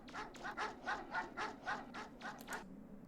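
Dog barking in the video game Mega Man Legends, a faint run of about ten evenly spaced barks in a steady rhythm.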